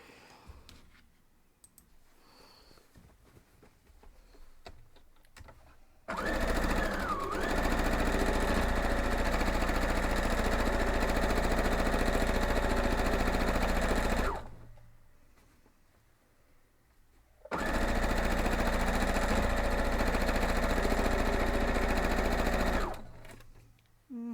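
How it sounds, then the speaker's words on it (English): Sewing machine stitching quilt block pieces in two long, loud, steady bursts of rapid mechanical whirring, with quiet handling noise before and between them. "let's go sew these up and then put our last two on"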